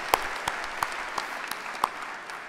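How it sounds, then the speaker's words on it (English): A small audience at a university student and family welcome claps sparsely, with distinct individual claps rising above a soft wash of applause. "You can clap for that."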